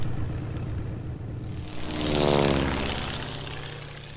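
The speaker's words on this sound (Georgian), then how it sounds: "მაგრამ ამ თვითმფრინავით არ უნდა წავიდნენ ესენი." Droning propeller airplane engine hum in the video game Mafia I that swells louder midway, like a plane passing close, then settles into a steady buzz.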